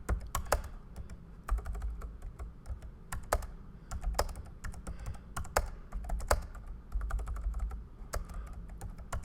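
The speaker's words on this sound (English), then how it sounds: "we can start typing" Typing on a computer keyboard while composing a new post: steady bursts of crisp key clicks with short pauses between runs, close and clear, no speech.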